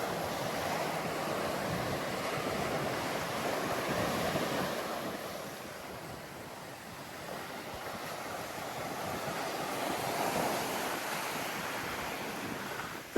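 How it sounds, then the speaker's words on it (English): Surf rolls onto the beach below hotel cabanas at a Hammamet resort, a steady broad wash of breaking waves swelling and easing over several seconds, with wind buffeting the microphone and no voices. "This is your beach view from the cabanas."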